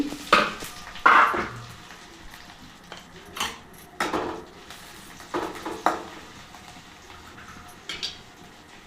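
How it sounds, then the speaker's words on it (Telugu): Onions fry in a pan while a utensil stirs them, soft sizzling under repeated scraping clinks and knocks of metal against the pan. "కొంచెం ఆనియన్స్ బాగా ఫ్రై అవ్వాలండి ఆనియన్స్ అయితే మగ్గాయి"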